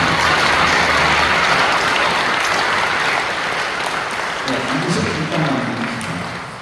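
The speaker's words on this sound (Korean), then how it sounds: "우리 긴 시간 동안 수고해 주신 우리 세 분의 후보자들에게 박수 한번 드리도록 하겠습니다" Sustained audience applause fills a hall at a church general assembly hearing for three candidates, loud and dense from the start before slowly thinning toward the end.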